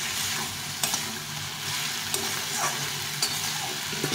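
Jackfruit curry with plenty of spices is sautéed in a pan, a continuous close sizzle with occasional sharp scrapes and clicks of a stirring spoon, no voices.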